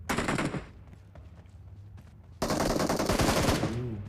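Automatic and rapid gunfire in a shooting video game during a league-stage match, loud bursts at the start, a quieter stretch in the middle, then a long sustained volley of shots to the end.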